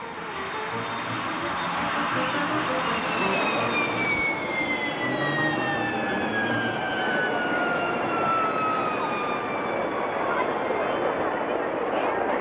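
A hovercraft coach's engine drives it up a 1-in-5 seawall gradient from a beach. A loud, continuous roar with a high whine holds steady throughout, while faint tones slowly glide downward beneath the din.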